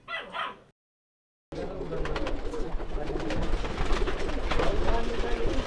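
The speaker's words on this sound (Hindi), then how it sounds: "इनके पास इलाहाबादी बॉर्डर वाले बहुत ही अच्छी क्वालिटी के और अच्छी नस्ल के कबूतर है" Allahabadi border pigeons of good breed kept in a loft, a brief burst of cooing and fluttering followed by a short gap, then a steady dense mix of bird calls with a faint bark and some nearby voices.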